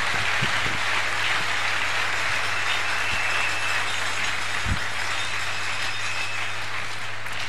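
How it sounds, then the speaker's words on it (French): Church congregation applauding during a Sunday worship service, a steady broadband wash of clapping held at even loudness throughout, with no talk over it. "Est-ce qu'on peut applaudir pour la parole?"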